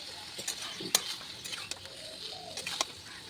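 Potatoes frying in a pan with spices, giving a soft steady sizzle broken by occasional utensil clicks and scrapes as they are stirred, close but faint, with no talk.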